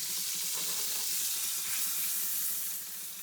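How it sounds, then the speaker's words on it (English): Butter sizzles and hisses steadily in a hot frying pan for a grilled cheese sandwich, a dense close crackle that eases slightly toward the end. "you want to put more butter actually into the pan"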